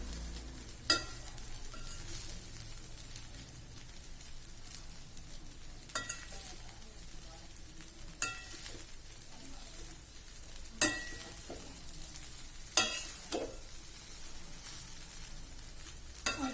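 Vangi bath being stirred in a frying pan, a quiet steady sizzle with occasional sharp scrapes and taps of a spoon against the pan, close and without talk.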